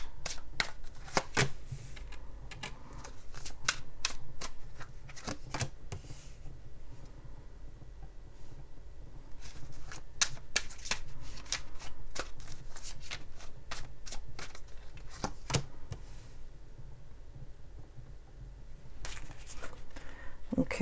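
A Chinese tarot card deck being shuffled by hand in repeated sharp riffling bursts with short pauses, close and crisp, over a quiet room background.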